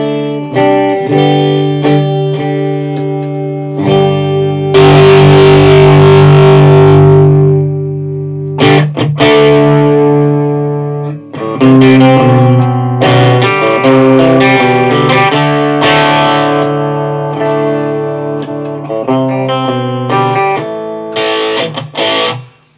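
Heavily distorted electric guitar, a Harley Benton SC500 through a Rat distortion pedal, plays loud sustained chords and riffs, thick and saturated, with brief pauses between phrases.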